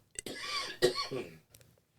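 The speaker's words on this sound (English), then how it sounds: "let me cough" A single close, raspy cough, followed by a brief throat-clearing sound, with no talking.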